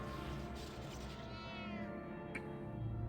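A cat meows in the video game EverQuest II, a steady harmonic cry holding under a constant layer of game ambience, with a brief bright chirp near the end and no voices.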